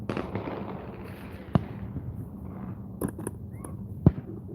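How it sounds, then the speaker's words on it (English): Fireworks go off at a park near a riverbank fishing spot on the Ohio River, with several sharp distant bangs and pops over steady outdoor background noise and no talking. "There's fireworks going off at the park."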